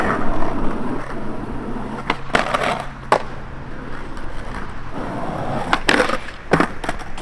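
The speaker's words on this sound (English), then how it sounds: "Street skater tries wall ride." A skateboard on Powell Dragon wheels rolls along a street with a constant rough roar, broken by several sharp clacks and impacts from tricks and landings.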